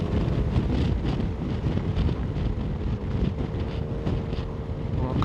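Strong wind buffets the microphone outdoors in a steady, loud roar with low rumbling gusts throughout, no voices over it.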